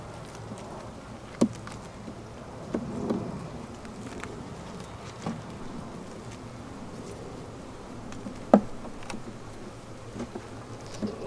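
Honeybees buzz faintly around beehives outdoors, a soft ongoing hum with occasional louder passes of bees close by and a few light knocks and taps, with no voices.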